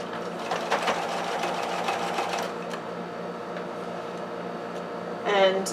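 A sewing machine stitches a quarter inch seam in a quilting setting, a steady mechanical whir running for a couple of seconds, then easing off into quieter room tone with a brief louder shuffle near the end.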